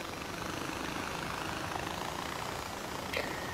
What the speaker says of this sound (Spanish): Cada vez que haces una misión de suministros, siempre te plantan ahí el helicóptero.